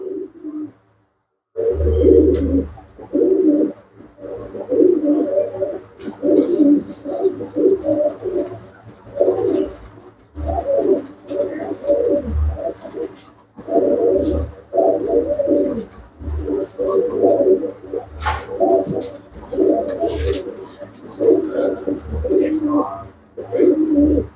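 Pure-bred pigeons kept in a loft coo loudly and close up in repeated rhythmic bouts of deep throaty rolls, separated by brief pauses, with faint chirps in the background.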